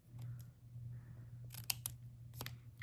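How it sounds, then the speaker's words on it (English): Scissors snipping paper for a handmade gift card holder, a few short crisp cuts close by over a steady low hum, no voices. "I'm cutting off a little bit of that end too, so I can make it a little bit shorter"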